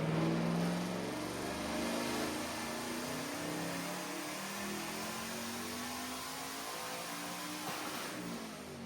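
A Southern Performance car engine runs steadily after being fired up, a continuous mid-pitched idle hum with a slight rise at the start, heard alone at moderate level.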